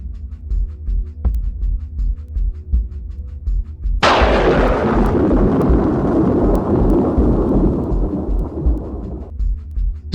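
A sudden, loud crack of thunder from Zeus's thunderbolt striking Phaethon bursts in and rolls on for about five seconds before fading, following a low rumbling bed.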